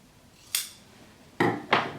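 Sharp scissors snipping the corners of a sewn fabric fox-ear pillow piece: three short crisp cuts, one alone then two in quick succession, close by in a quiet room.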